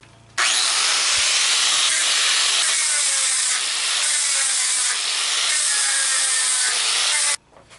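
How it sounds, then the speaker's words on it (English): Makita side grinder with a sanding adapter and coarse sandpaper working a wooden cutting board, a steady close hissing, rasping drone holding for about seven seconds between brief pauses. "I'm going to hit it with the good old Makita side grinder"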